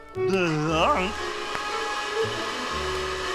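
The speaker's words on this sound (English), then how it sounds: "That's the vacuum cleaner." A vacuum cleaner running in an old radio comedy, a steady motor whine and hum that settles in after a wavering, voice-like sound at the start.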